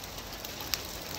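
Heavy, cold rain is falling in Shimla, making a dense, steady wash of noise with a single sharp tap partway through.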